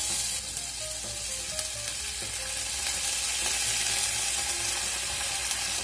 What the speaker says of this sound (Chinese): 那么给它翻炒到热腾腾的，都炒透了就可以调味了。